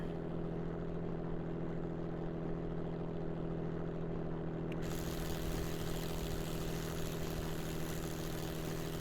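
Aircraft engine in the video game Kerbal Space Program drones steadily during takeoff and climb, a constant even tone that brightens partway through.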